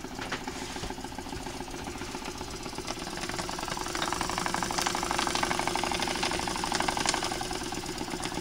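A small PM Research oscillating piston model steam engine runs on about 1 to 2 PSI from a soup-can boiler with a copper pipe, making a rapid, close, continuous clattering chuff that swells slightly midway.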